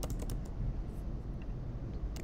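Fingers tap on a computer keyboard while a name is entered into a registration form, a quiet run of quick, irregular key clicks close by.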